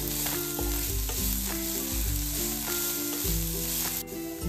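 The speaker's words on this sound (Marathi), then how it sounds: "आता आपण ना मिनिट भरासाठी ह्या भाज्या परतून घेऊयात।" Mixed vegetables being stir-fried in a pan for Chinese bhel, a loud continuous sizzle under rhythmic spatula scrapes and knocks against the pan, several strokes in a row, with a brief sharp clink near the end.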